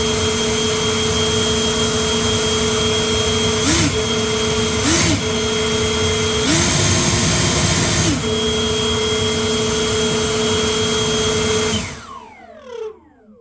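EGO LB8800 880 CFM battery leaf blower running on turbo, a loud steady high-pitched whine and rushing air with several brief pitch dips, then winding down at the end.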